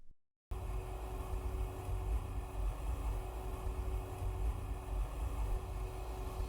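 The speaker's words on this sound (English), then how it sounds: "That's increasing engine noise." A jet airliner's engines drone steadily inside the Roblox game, a constant broadband roar with faint tonal whine that holds at an even level throughout.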